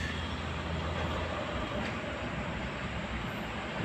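A large vehicle, a bus, passing along a road where cane trucks travel, giving a steady broadband roar of engine and tyre noise at moderate distance with no talking.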